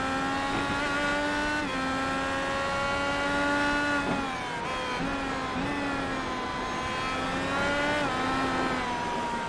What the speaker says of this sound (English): you heard the tyres sliding then as well